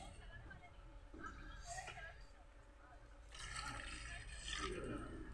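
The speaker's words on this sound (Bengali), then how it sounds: "মুসুরটা দেওয়ার পর জল দিয়ে দেব।" Water is poured into a pot of red lentils, a soft, gurgling splash that swells in the second half, faint and close, with a voice talking over parts of it.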